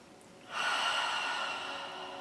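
After a moment of quiet, one long, close, audible breath rushes steadily and slowly fades. No talking.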